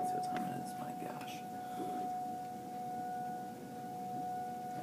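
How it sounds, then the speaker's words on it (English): Tornado sirens sound during a severe thunderstorm, a faint, steady sustained tone held unchanged throughout beneath soft whispery voices and low background rumble. "I don't know why they got our sirens going off."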